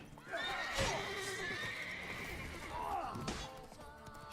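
Geralt's horse in The Witcher 3 video game gives a loud, drawn-out neigh with a second whinny near the end, accompanied by a few hoof clops.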